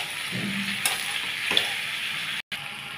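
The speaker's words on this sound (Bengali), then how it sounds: "এবার আমি আবার একটু ভালো করে নেড়ে নেব, টমেটোগুলো যাতে একটু গলে যায়।" Potatoes, pointed gourd and tomatoes frying in a pan for a Bengali curry, stirred with a spoon: steady close sizzle with a few scraping stirs and a brief dropout near the end, no talk.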